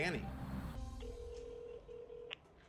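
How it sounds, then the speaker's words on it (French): Phone dialing to place a call: a brief burst of tones right after a voice, then steady tones and a short beep, faint and close. "Allez, on appelle Danny."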